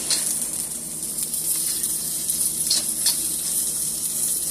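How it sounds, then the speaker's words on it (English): Cabbage stir-frying in a stir fryer gives a steady, close hiss of sizzling that runs unbroken for a few seconds, with faint crackles and no talking. "Stir-fried cabbage, guys. I'm working with my stir fryer."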